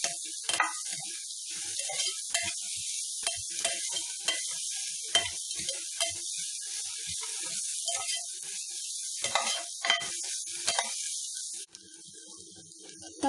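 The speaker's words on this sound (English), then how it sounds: "Fry the onions just slightly changes its color." Onions frying in a pan, a steady close sizzle and crackle with scattered pops that runs throughout without talk.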